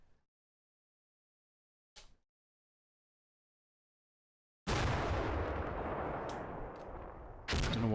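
Gunfire and artillery in the video game Combat Mission: Black Sea, a short crack early on, then after near silence a loud sustained roar of firing and blasts that surges again at the end.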